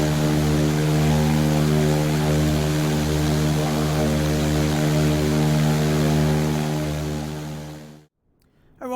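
A Diamond DA40 XLS light aircraft in a flight simulator drones with a steady, loud propeller-engine hum that runs evenly, then cuts off abruptly near the end.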